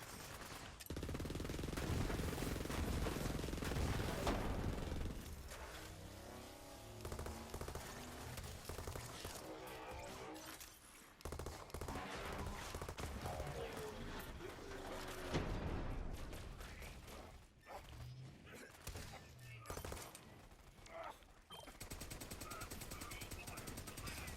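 Gunfire rattles through a Borderlands 3 video game firefight, with sustained automatic bursts and scattered single shots in uneven waves over about twenty seconds, dense and close throughout.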